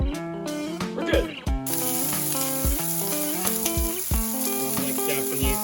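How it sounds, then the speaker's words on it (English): Japanese-style bell peppers sizzle in a frying pan with a soft, continuous crackling hiss, partly masked by loud background music. "I'm gonna be cooking them, very simple, just on the frying pan"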